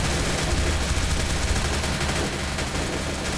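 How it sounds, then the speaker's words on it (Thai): An M4 rifle in the Roblox video game fires rapid, continuous automatic bursts, loud and dense throughout the clip with no pauses. "ตัวไอเอ็มสี่ที่ผมถือเนี่ยคือมันยิงถี่กว่านะ"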